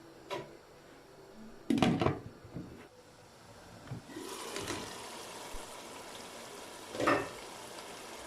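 A covered pan of potato, pea and carrot curry with water added: a couple of clunks from the lid, then a soft, steady simmering hiss.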